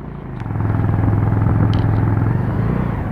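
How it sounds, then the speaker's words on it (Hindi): A motorcycle rides along a village road between Satpuli and Kandai village in Garhwal, Uttarakhand, its engine a steady, loud, continuous rumble held close throughout. "ये शर्मा जी बाइक चलाते हुए यहाँ पे"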